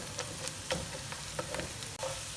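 Onions and whole spices, including white cumin, fry in a pan with a steady close sizzle. Soft spoon clicks and scrapes tick through it at irregular intervals, with no voices.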